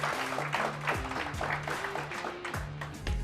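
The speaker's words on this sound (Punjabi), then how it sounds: "ਇੱਕ ਵਾਰ ਜ਼ੋਰਦਾਰ ਤਾੜੀਆਂ ਗੁਰਪ੍ਰੀਤ ਕੌਰ ਤੇ ਉਹਨਾਂ ਦੇ ਹਸਬੈਂਡ ਸੰਦੀਪ ਸਿੰਘ ਪੁਰੀ ਲਈ" Audience applause at the grand finale of a televised cooking competition, a steady crowd clapping for a contestant couple that runs through the whole stretch, layered over loud show music with a recurring melodic line.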